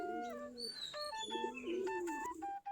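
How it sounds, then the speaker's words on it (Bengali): Native Giribaz pigeons at the coop give a quick series of coos and chirps close by, overlapping calls that rise and fall in short bursts. "আমাদের সবগুলাই দেশি জাতের কবুতর, দেশি গিরিবাজ কবুতর বলে।"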